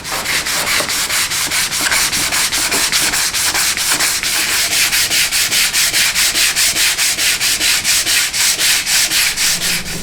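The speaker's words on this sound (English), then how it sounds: "I'm going to sand it with a flat, heavy block so that I try and get a good smooth finish on it" A flat, heavy block sands primer on an old steel safe, a loud rhythmic rasp of quick back-and-forth strokes repeating evenly throughout, close up and with no talking.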